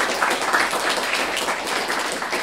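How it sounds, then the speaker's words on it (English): Audience applause for a panel discussion, a dense, steady wash of clapping at moderate loudness throughout, with no voices rising above it. "Please give the panelists a warm round of applause again."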